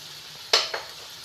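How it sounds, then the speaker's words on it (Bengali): Ginger paste and ground spices sizzle as they are stirred in a pan for a Bengali fig curry. Two short, sharp scraping sizzles, the second softer, sound against quiet kitchen background. "একটু ভালো করে ভাজা ভাজা করে নেব যাতে আদার কাঁচা গন্ধটা চলে যায়"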